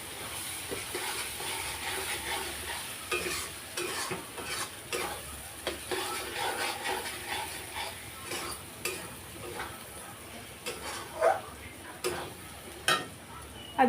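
Desi chicken frying and being stirred in a pan, with repeated scraping strokes and bursts of sizzle at an uneven rhythm, close and moderately loud, no voices.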